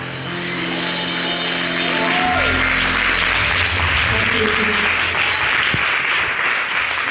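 Audience applause for a singer, a broad steady wash of clapping that follows the end of a sung phrase and carries on loudly to the close.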